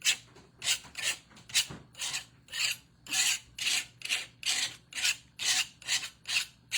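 Glaze being scraped off a ceramic tic tac toe board with a dragonfly glaze design: steady, rhythmic rasping strokes, about a dozen evenly spaced passes, close and fairly loud with no voices.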